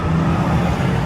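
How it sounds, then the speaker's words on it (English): Steady traffic roar from a line of cars speeding down a bridge toward a red light at Halifax Drive near Daytona Beach, a continuous dense rumble without breaks. "there's an entire line of traffic from the top of the bridge all the way down, racing into what will soon be a red light"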